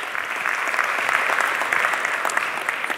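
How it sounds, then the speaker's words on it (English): An audience claps steadily and evenly at a conference for an equity crowdfunding panel, a dense, continuous round of applause with no voices over it. "Another round of applause for our panel"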